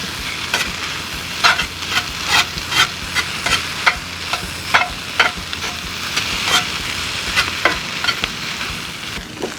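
Leftover carrots, onions and peppers sizzle in a hot pan while a utensil stirs them for corned beef hash, giving a steady fry hiss broken by a string of scraping, clattering strokes.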